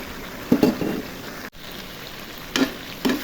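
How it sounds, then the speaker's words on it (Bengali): Broiler chicken pieces with fried potatoes sizzle softly in a pan. A low frying hiss runs throughout, broken by a few brief bursts of stirring. "এখন আলুগুলো ভেজে রেখেছি, সেই আলুগুলো দিয়ে দিব। মাংসের মধ্যে দিয়ে একসাথে কষিয়ে নিব।"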